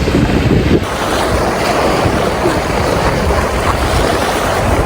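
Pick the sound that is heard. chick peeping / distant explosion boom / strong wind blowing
strong wind blowing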